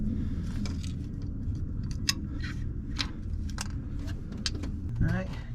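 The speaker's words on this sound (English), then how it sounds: "We'll use a pair of long needle nose to reach in here and pull the rest of the lifters out." Engine lifters on a Chevrolet 5.3 V8 being pulled out with long needle nose pliers, light metallic clicks and clinks scattered irregularly at close range, with a brief voice near the end.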